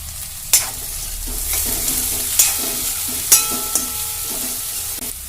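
Raw cashews and onions fry in hot oil for kaju rice, with a steady bright sizzle and several sharp metallic taps and scrapes of a spoon stirring the pan, close by and without speech.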